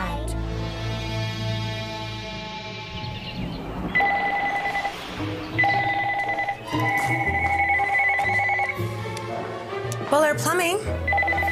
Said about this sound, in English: phone doesn't stop ringing.